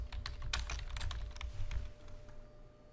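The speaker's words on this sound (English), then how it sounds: "We can come in here, type in a keyword that we want." Close, quiet clatter of keys on a computer keyboard as a search word is entered, brisk irregular taps over a low room hum, no voices.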